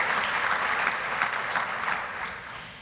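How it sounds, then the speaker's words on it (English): Conference audience applause: a large crowd clapping steadily and densely, close and full, gradually easing off near the end. "So a round of applause."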